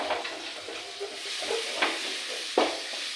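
Mustard seeds pop and splutter in hot oil while a spoon stirs the pan, with a steady sizzle and a few sharper crackles standing out near the end.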